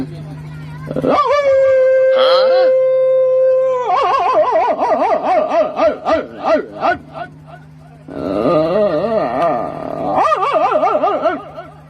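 A human voice imitates a German Shepherd dog barking, with loud, close, drawn-out howling barks and yips in two bursts separated by a short pause.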